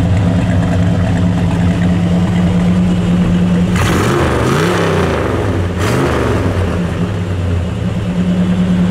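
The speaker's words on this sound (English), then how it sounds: "Car sounds great." A 1967 Plymouth Sport Satellite V8, freshly fitted with a carburetor kit, plugs, points and wires, idles loudly and steadily. It revs up twice with rising and falling engine pitch, then settles back to idle, with no talking.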